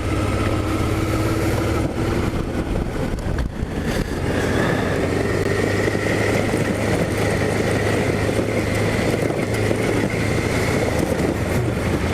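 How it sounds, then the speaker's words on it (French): Steady Honda Africa Twin RD07 motorcycle engine drone throughout, with a brief dip and stumble in the revs near the middle as a gear change is missed, then the engine pulls on. "Tu l'as entendu le loupage de rapport?"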